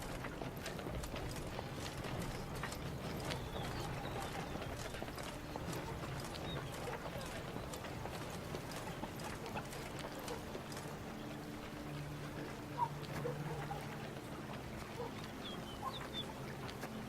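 Horses' hooves clip-clopping as riders arrive in The Witcher game, a faint, steady patter of hoofbeats over quiet ambient noise with occasional bird calls.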